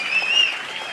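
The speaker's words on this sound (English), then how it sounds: "Big applause for Christine." Steady, dense applause rises from a comedy show audience, a continuous wash of many hands clapping at moderate loudness, with a faint high tone running through it and no talk.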